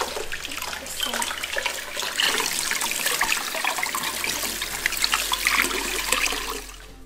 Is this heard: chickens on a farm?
no